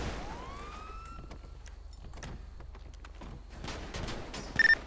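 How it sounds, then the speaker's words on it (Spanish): Video game gunfire: scattered sharp shots crackle over a low hum, with rising siren-like tones and a few high electronic beeps near the end. "Disparos."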